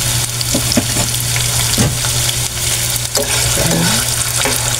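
Pili nuts with garlic fry in a shallow layer of hot oil, giving a steady close sizzle broken by several stirring scrapes and clicks of a utensil, with a low hum underneath and a brief spoken phrase.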